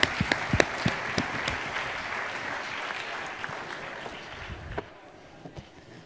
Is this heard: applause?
yes